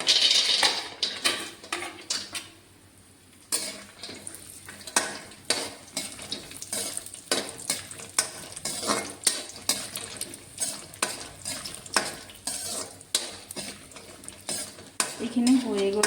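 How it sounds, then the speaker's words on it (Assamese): Dry fruits fry in ghee in a kadai as a spoon repeatedly scrapes and clinks against the metal, a soft sizzle running under the rhythmic stirring throughout. "প্ৰথমতে মই ড্ৰাই ফ্ৰুটখিনি অলপমান ভাজি লওঁ।"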